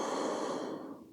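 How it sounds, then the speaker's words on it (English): One long, breathy exhale during a yoga chakra session, close and soft, fading out after about a second with no talk. "Inhale and exhale."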